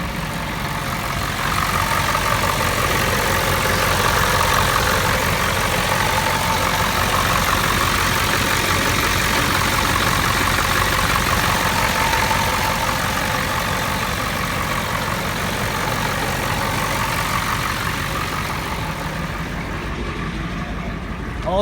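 A 1988 Ford F350 with a 7.3 IDI diesel engine idling, a steady, loud, unbroken rumble that holds evenly throughout.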